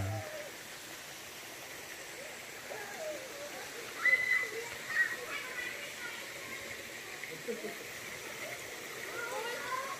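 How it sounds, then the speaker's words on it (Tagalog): A small waterfall with low flow runs over many large rocks in a dry season at Dacdacanan, San Joaquin, giving a steady, soft rushing wash throughout while people talk nearby. "Yan yung falls. Mahina rin tubig niya."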